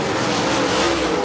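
Race car engine roaring at full throttle during a dirt track race at Lake Cumberland, a loud, steady sustained drone with no break over the short span.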